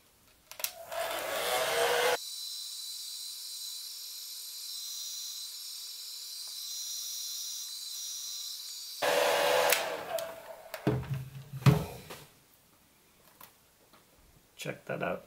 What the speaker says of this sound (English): Just get yourself a hair dryer.